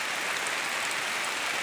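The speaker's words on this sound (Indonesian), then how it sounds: "Sementara tunggu ini hujan berhenti." Steady rain falls throughout at a camp while people wait for it to stop, a dense even hiss of drops with no talk over it.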